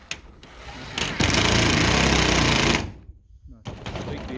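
Power driver sinking a screw into a porch roof beam, a loud sustained whirring burst of about two seconds with short driver bursts before and after it, close by.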